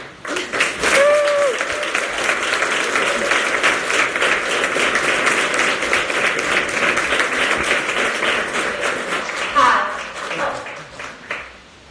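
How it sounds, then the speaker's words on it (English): Sustained applause from a large crowd, dense steady clapping for several seconds that tapers off near the end, with a few voices underneath. "please give a very big applause for Solomії Vítvický."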